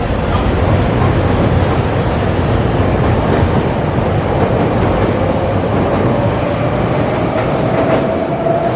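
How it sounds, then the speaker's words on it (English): A train rolls past in Chicago, a loud, steady rumble with rattling cars that fills the whole span, and a faint rising tone creeps in toward the end. "Oh, there goes the train."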